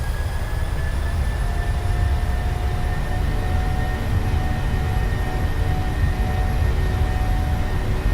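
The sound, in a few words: PMDG 737-700 engines at takeoff thrust, Microsoft Flight Simulator video game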